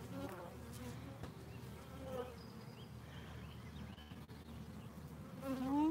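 Honeybees buzzing around an open hive during an inspection, a continuous close drone with individual bees whining past, faint and steady beneath a quiet outdoor background.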